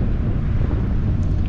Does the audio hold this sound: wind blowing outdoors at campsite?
yes